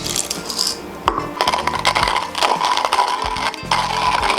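Comandante hand coffee grinder crushing coffee beans on a coarse setting: loud, continuous crunching and rattling with sharp cracks and irregular grinding bursts, close up, no talking.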